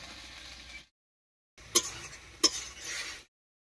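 Potatoes and onions frying for a small river fish recipe give a soft sizzle, broken by a short silence and then two sharp utensil scrapes against the pan.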